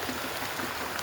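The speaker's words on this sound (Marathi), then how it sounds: "तर सकाळ सकाळ पाऊस इतका जोरात चालू झाला का नाही." Heavy morning rain in a village, heard as a dense, steady broadband hiss of pouring water that fills the brief moment without a break.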